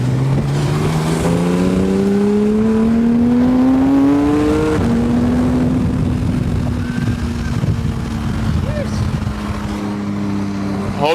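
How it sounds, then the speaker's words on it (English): A manual Porsche sports car engine revs hard while driving, climbing in pitch through one gear, dropping sharply at a shift, then pulling again under steady wind noise, with someone talking over it. "Hope you don't hear a bunch of wind and actually hear the car."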